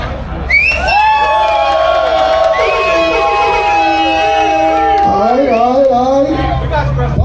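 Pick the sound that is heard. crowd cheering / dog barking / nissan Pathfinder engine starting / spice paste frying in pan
crowd cheering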